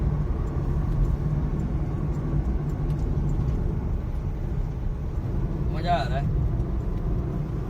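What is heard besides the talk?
Honda City car cruising on highway on CNG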